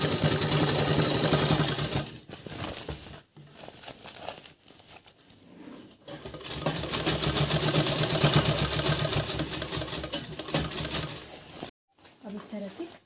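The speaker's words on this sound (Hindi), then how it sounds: "इसमें भी हम गोल सिलाई करेंगे।" Sewing machine stitching a curved seam on a handbag made from leftover fabric, a steady mechanical whir running in bursts with short pauses and soft fabric rustling between runs.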